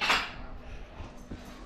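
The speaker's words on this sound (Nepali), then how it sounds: "म भाँडा माझिहाल्छु" Dishes, pots and pans are washed at home after a momo meal, with a sharp clank at the start followed by scattered softer knocks and scrapes of utensils.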